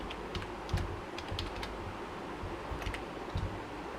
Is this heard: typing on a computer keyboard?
yes